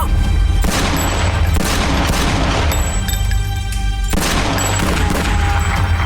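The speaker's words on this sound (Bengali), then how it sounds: "আমি মনে হয় গুলির শব্দ শুনেছি।" Loud, dense bursts of gunfire fill the clip, repeated cracks and booms over a constant low rumble, with a brief lull near the middle.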